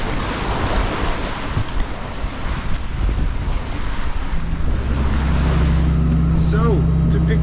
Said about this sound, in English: We're crashing into the waves.